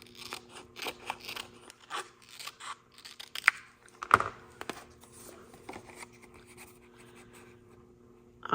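Scissors trimming a paper card frame at a craft table, a run of short crisp snips and rustles close by with no talk, mixed with light handling sounds of the card.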